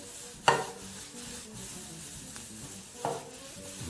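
Food for a spaghetti and meatballs lunch fries in a pan with a very small amount of oil, giving a soft, steady sizzle. Two sharp utensil clinks against the pan stand out as it is stirred.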